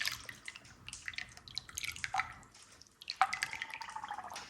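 Coolant trickles and drips into the radiator of a 1986 S-10 truck with a swapped V8, a faint, close, irregular gurgle that rises in pitch as the radiator fills.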